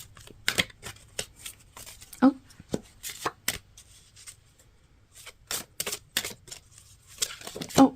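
Oracle cards handled and shuffled at close range, with crisp riffling bursts and taps in uneven clusters separated by brief quiet gaps, and a voice speaking briefly at times.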